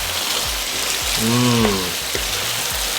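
Lemongrass chicken with jalapenos sizzles loudly in a pan as a close, dense frying hiss, with a brief voice murmuring over it and soft stirring knocks at intervals.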